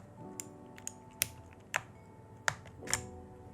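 An AULA F3261 mechanical keyboard with clicky Outemu Blue switches is typed on in sparse, separate keystrokes, about six sharp clicks spaced irregularly, close and isolated with no talking.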